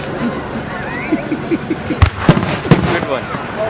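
Fireworks crackle and pop at bonfire night on Hohne Station, with a run of small bursts followed by several sharp, louder bangs nearby, over a background of crowd chatter.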